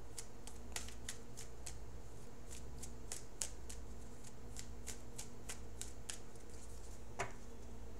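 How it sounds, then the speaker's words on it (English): Tarot cards are shuffled close by, a steady run of crisp snapping flicks, roughly two or three per second, against a quiet background. "So I'm going to shuffle for your outcome card."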